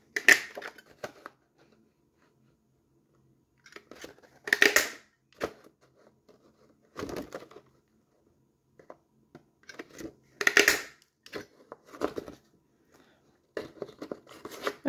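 Paper cardstock being cut by hand for a handmade card, in short separate bursts of snipping and crunching with quiet pauses between them and no talk.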